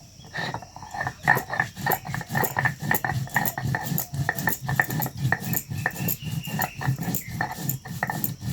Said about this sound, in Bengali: আমি কতটুক জিরে বাইটে নেই